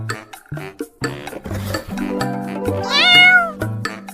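A kitten meows loudly and close up in a run of short, high cries that rise into one long, drawn-out wail near the end.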